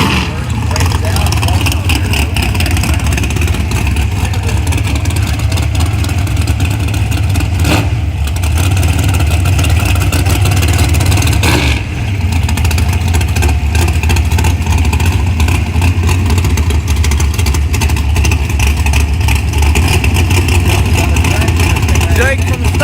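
Bracket racing cars launching at Xtreme Raceway Park, heard as a loud, continuous engine roar with revving surges that fill the whole stretch, together with crowd noise and talk.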